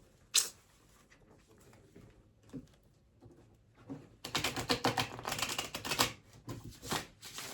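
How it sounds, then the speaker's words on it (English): Soft tarot card handling gives way to a run of rapid, close riffling shuffles in the second half, dense crisp flutters in steady bursts. "I'll just give the cards one more shuffle without dropping them on the floor."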